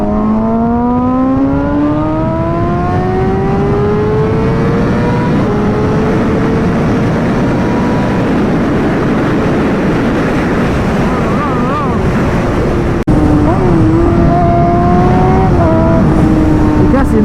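Suzuki GSX-R 600 sport motorcycle engine revving up, rising whine climbing in pitch repeatedly, loud and close with wind buffeting, a sharp shift partway through.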